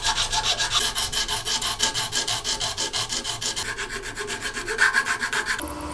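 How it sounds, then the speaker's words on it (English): Close, steady rasping strokes of a file working stacked, clamped wooden earring pieces, a regular back-and-forth rhythm with no voices. "I simply stack and clamp them and use a file and some sandpaper for this."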